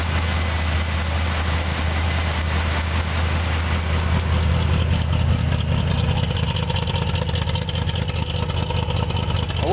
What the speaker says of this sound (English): let it just idle up and warm.